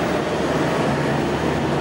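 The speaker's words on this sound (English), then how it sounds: "Onto the train we go." Suburban commuter train in Stockholm, Sweden, heard from inside as a steady, fairly loud rumble of wheels and hum with no talking over it.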